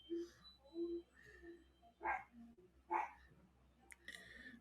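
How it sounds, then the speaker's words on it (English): A schnauzer at home gives a handful of separate sharp barks and yips, spaced apart, faint and somewhat distant, with quiet gaps in between. "Mama Mac, you heard that schnauzer?"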